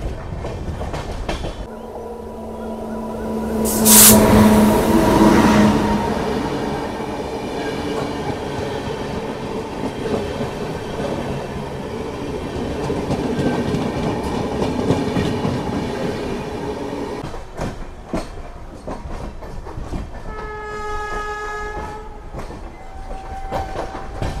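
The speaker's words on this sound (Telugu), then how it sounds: "మన ట్రైన్ వచ్చేసి దాదాపు 24 నిమిషాలు లేట్గా వచ్చేసి మనకు సికింద్రాబాద్ జంక్షన్కి అయితే వచ్చింది" Tirupati–Secunderabad bi-weekly superfast express 12731, running with LHB coaches, rumbles past with a steady rolling clatter, a loud horn blast early on and a sharp two-tone horn call near the end, with no talk.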